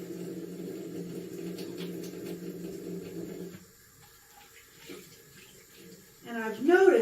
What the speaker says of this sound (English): I'm wasting a lot of water trying to get these onions rinsed.